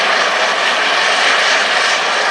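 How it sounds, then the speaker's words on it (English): A Gazelle helicopter flying at the RAF Cosford airshow gives a loud, steady rotor and engine roar that holds unbroken throughout, with no voices. "Exceptional performance, yet remains one of the quietest helicopters in its class."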